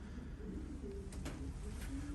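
Young racing pigeons in a loft coo softly in a few low, brief calls over a faint steady background hum.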